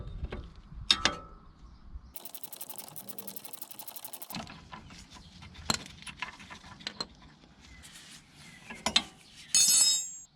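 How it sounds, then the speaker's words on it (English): A 15mm open-ended spanner and socket work a shock absorber nut loose on a BMW E87 rear suspension, giving sharp metallic clinks and ratchet clicks in scattered bursts, with a few brief whirring passes, close and fairly quiet. "we can grab hold of that with a 15mm open-ended spanner and get the nut undone with a socket"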